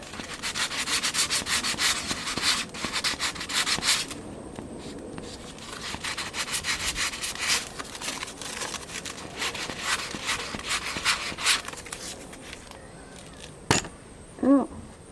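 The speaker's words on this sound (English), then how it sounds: "And now I'm ready to sand." Hand sanding on a repaired, torn canvas: steady rhythmic rubbing strokes in bursts with short pauses, close and moderately loud, ending with a couple of brief knocks.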